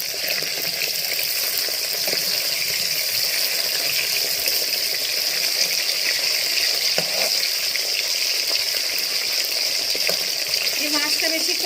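Tilapia pieces fry in hot oil in a home kitchen, giving a continuous loud, close sizzle and crackle that holds steady throughout with no talking.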